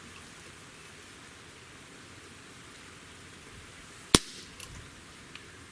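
A Schofield revolver's hammer drops with one sharp metallic snap during a trigger pull on a Lyman trigger gauge, followed by a couple of faint clicks in a quiet room.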